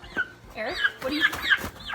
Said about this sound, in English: What do you think of the turkeys?